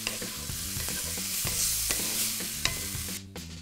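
Vegan bulgogi with green onion sizzles loudly in a hot pan while a utensil stirs it, producing continuous frying hiss with regular scraping knocks, close up and without speech.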